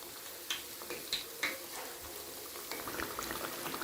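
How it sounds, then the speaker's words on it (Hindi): Eggplant pakoras sizzle quietly in hot oil, a soft crackling bubble punctuated by a few sharper pops, with no talking. "अब ये जो बाकी के बैंगन रहते हैं हम इसी तरह इसको भी फ्राई कर लेते हैं। हमारा ऑयल पहले से ही गर्म है"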